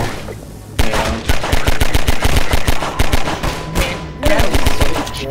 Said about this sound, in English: God, that gunshot's more crisp than I remember.